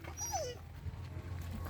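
A puppy that fell off a motorcycle lets out a single rising-and-falling whimper over steady low background rumble, near and moderately loud.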